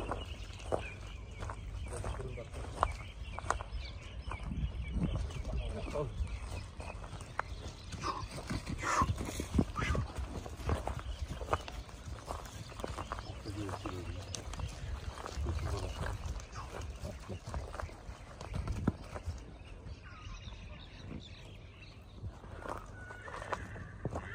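Young Kyrgyz horses at an outdoor sale, hooves clip-clopping in irregular bursts alongside occasional neighs, with someone talking steadily over the sounds and quiet ambient noise throughout.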